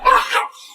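A single sharp dog bark, close and loud, trailing off quickly.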